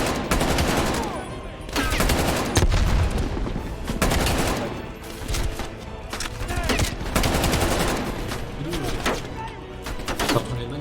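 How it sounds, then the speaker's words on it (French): Call of Duty Black Ops Cold War campaign combat, with a grenade thrown amid dense, continuous gunfire, bursts of automatic fire and a few heavy booms, all loud and close throughout. "Grenade lancée."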